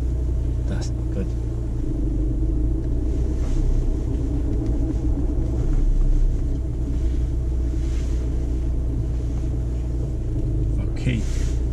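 A car engine rumbles steadily from inside the cabin while a nine-year-old girl drives for the first time, a constant low drone with faint road noise and an adult voice talking over it.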